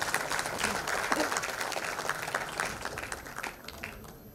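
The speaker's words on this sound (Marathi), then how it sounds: "जोरदार टाळ्या." Audience applause at a public event honouring Veer Savarkar's centenary, a broad, moderately loud wash of clapping from a crowd that continues steadily and tapers slightly near the end.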